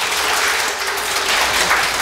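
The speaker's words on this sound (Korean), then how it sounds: "오늘 이 강의를 멋지게 해주신 우리 이병선 선생님한테 고맙다고 다시 한번 박수를" Brief burst of steady audience applause after a lecture on making grain teas, dense clapping at moderate level with no speech.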